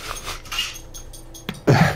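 A dog in the room during a tabletop game session makes a short vocal sound near the end, fairly close and louder than the quiet room noise, after a brief thump.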